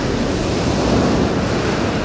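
Ocean waves break near a beach at a salmon fishing spot, a steady, loud wash of surf blended with wind rumble on the microphone, with no voices.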